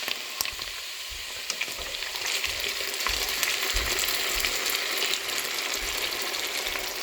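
Potatoes frying in oil in a karahi pan, a steady close sizzle and crackle running throughout with occasional light clinks of utensil against metal.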